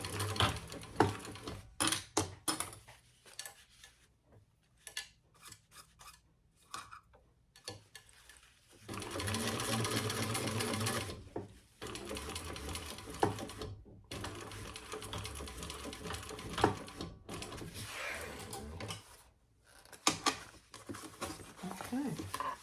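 A home sewing machine stitches a bucket bag in bursts of rapid mechanical ticking, some short and some long steady runs, with pauses and handling noises between them, up close.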